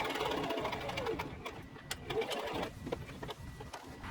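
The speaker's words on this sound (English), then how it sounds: "So I'm just gonna sew the hem real fast." Sewing machine running steadily to stitch the hem of a simple cotton top, a continuous close mechanical whir with faint clicks, with some speech in the background.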